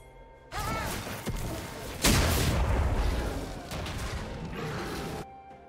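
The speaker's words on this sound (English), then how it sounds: "Blue team's turret has been destroyed" A turret being destroyed in League of Legends, heard as a dense burst of booming, thudding game effects with a heavy impact near the middle, layered over busy match noise.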